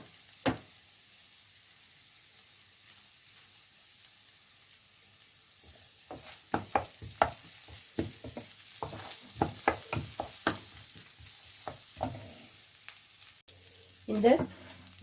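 Curry leaves fry in hot oil for a French beans stir-fry, with a low steady sizzle under scattered sharp clicks and knocks of a utensil against the pan, closer and busier in the second half.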